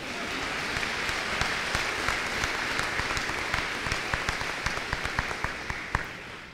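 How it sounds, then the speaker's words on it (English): Steady audience applause at a university graduate hooding ceremony, a dense continuous patter with individual sharp claps standing out near the front, filling the whole stretch. "You can applaud for that."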